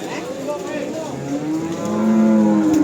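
Limousin cattle moo loudly at a cattle market in Tuban, several drawn-out calls overlapping, with one long, deep bellow swelling near the end over steady crowd and livestock background.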